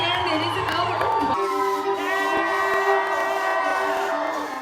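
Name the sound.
crowd cheering at a lumberjack show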